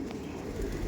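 A Giribaj pigeon gives a brief, low, close coo, a soft throaty murmur lasting under a second.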